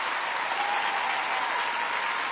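Audience applause at a French tribute evening, a steady dense wash of clapping from a large crowd, sustained and even throughout with no voices above it.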